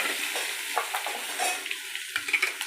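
Ginger, coriander and green chili sauté in a pan with a faint, crackling sizzle, punctuated by light stirring scrapes and taps of a utensil, with no talking.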